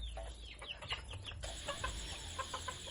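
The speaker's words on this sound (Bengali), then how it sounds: "তো আমার মুরগিগুলোকে খাবার দিচ্ছি" Hungry chickens cluck in quick, uneven bursts while being fed, close by and moderately loud, against soft background noise with no talking.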